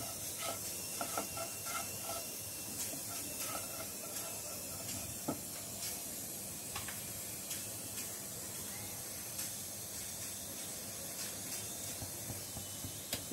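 Bay leaf and fenugreek seeds frying in hot oil in a pan on a gas stove give a steady, soft sizzling hiss with faint scattered crackles and no talking.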